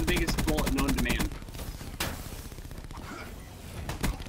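A new, huge-caliber sniper rifle in Black Ops 3: a fast rattle of shots at first, then single heavy sniper cracks spaced seconds apart, with game audio and voices in the background.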